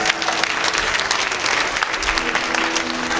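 Steady, dense applause from a crowd at a dolphin show during a dance marathon event, continuous and fairly loud for the whole stretch with no voices over it.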